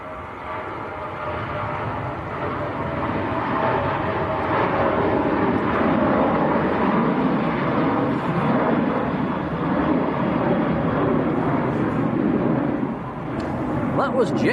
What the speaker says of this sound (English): That was Jet2 to Innsbruck, 737-800.